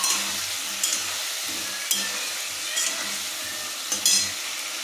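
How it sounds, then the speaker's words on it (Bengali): Potatoes sautéing with spices in a pan, a steady close sizzle with a spatula scraping and stirring in periodic strokes, no talk. "মশলার সাথে আলুটা দিয়ে একবারে কষতে হবে"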